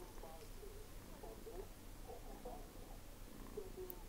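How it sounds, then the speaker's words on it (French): Soft, continuous purring of a baby in The Sims 4 runs quietly throughout, a low rhythmic rumble at a faint level with light game sounds beneath. "Ça ronronne, hein."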